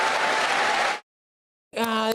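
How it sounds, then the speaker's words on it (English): Audience applause after a political announcement about a council house building programme: a dense, steady burst of clapping for about a second that cuts off abruptly, followed by silence and then other sound. "They all clap for that, brilliant."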